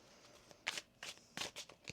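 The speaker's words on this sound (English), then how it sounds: "1 more shuffle" Tarot cards are shuffled in several quick, crisp riffling bursts close up, with short pauses between them and no speech.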